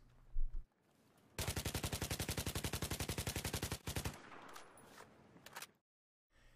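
An AUG A3 rifle in Battlefield 3 fires one long, even full-auto burst of about two and a half seconds, loud and close. A few separate shots and faint clatter follow before it falls silent.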